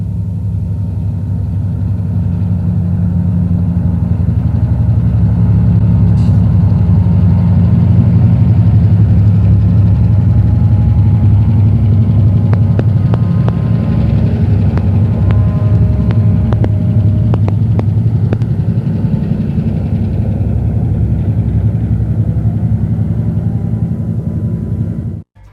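Milwaukee Road MP15AC diesel switchers running elephant style roll past with a loud, steady low engine rumble and drone, joined later by faint clanks and squeals, no voices.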